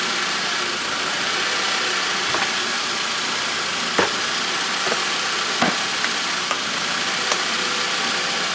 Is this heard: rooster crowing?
no